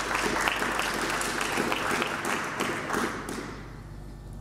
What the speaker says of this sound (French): Merci aux deux intervenants, je crois qu'on peut les applaudir.